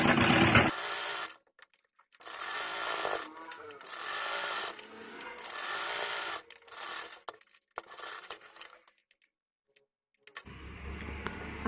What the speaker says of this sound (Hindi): इस तरीके से किनारे किनारे हमें सिलाई लगा लेनी है